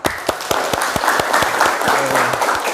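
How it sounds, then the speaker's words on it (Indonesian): Classroom applause from a group of students, a brief burst of quick, fairly close claps that stays lively throughout before fading near the end. "Aplaus untuk kita semua."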